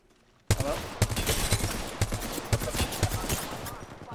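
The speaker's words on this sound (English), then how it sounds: "Nice airstrike." Rapid bursts of airstrike explosions in a shooter video game, a dense run of loud blasts and crackling hits starting abruptly and pounding on in a steady rhythm roughly every half second.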